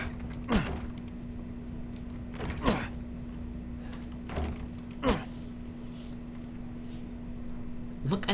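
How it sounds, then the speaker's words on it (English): A wooden door in the video game Resident Evil 8 creaks and rattles as it fails to open, with four separate strained creaks spaced a couple of seconds apart over a steady low hum. "Look at this wooden door, bro. Can't get open."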